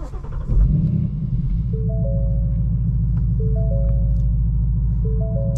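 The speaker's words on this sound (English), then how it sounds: "Let's start up the car and let's see how it sounds." A 2020 Ford Mustang Bullitt V8 cranks and fires, then settles into a steady, loud low idle rumble with a rhythmic throb, heard close with no talking.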